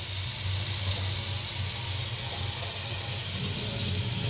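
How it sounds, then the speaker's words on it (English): Warm tap water runs steadily into a 3M Scott FRR gas mask, a continuous broadband rush of flowing water with a low hum underneath, fairly loud and unbroken, with no talking. "Let's get some warm water in here"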